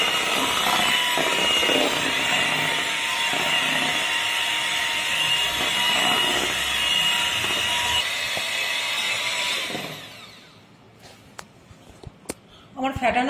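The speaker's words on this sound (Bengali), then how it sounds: "আমি অল্প অল্প করে ময়দা দিচ্ছি আর এটাকে ব্লেন্ড করে নিচ্ছি।" Electric mixer whirring steadily as flour is added bit by bit to homemade cake batter, a loud continuous motor drone that cuts off near the end, leaving faint kitchen clatter.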